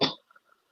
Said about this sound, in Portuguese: E aí você vai dar 3 tosses secas